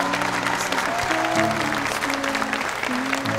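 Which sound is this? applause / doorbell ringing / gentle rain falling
applause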